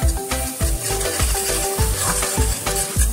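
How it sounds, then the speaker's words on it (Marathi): Spice paste for egg curry sizzles and fries in oil in a pan, a steady close crackle with rhythmic stirring scrapes, no talking. "आणि हे वाटण तेल सुटेपर्यंत मस्तपैकी फ्राय करून घेणार आहे"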